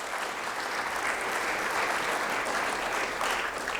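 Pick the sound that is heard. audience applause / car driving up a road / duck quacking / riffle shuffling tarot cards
audience applause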